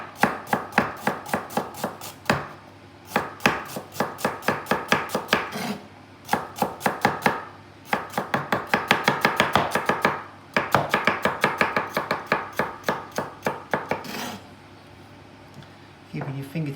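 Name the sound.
chopping carrots with a knife on a board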